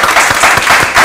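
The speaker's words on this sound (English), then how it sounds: "Please, let's give her a round of applause" An audience breaks into a dense, steady round of applause after a conversation event, many hands clapping together at full volume with no pause.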